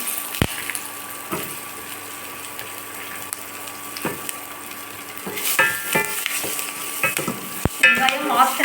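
Onions, curry leaves and chana dal fry in a pan with a crackling sizzle and repeated spatula scrapes and knocks, growing louder and busier toward the end.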